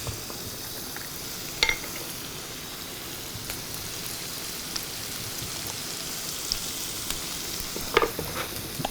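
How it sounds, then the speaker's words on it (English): Garlic sautéing in a pan at a lakeside cooking session, a steady soft sizzle with light scraping stir sounds and a couple of sharper clatters, continuous and close with no talking. "Now just saute these guys off."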